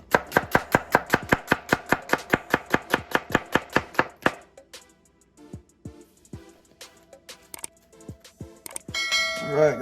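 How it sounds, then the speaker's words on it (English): A kitchen knife chops an onion into julienne strips on a cutting board, a fast even run of about twenty crisp knocks, then slower scattered cuts and board handling with a brief clatter at the end. "for the onion now, nothing fancy for the onion. We're just gonna go down the middle, just julienne."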